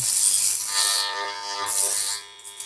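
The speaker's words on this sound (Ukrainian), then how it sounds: "Зараз включу на якорю покажу, як він працює." An electric power tool armature, the kind from large angle grinders, spins on a diagnostic tester with a steady high-pitched mechanical whir and hum. The whine dips and rises again, then fades near the end.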